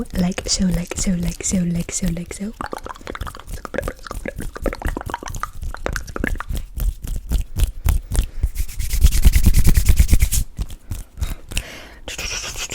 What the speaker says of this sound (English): Just rubbing my hands together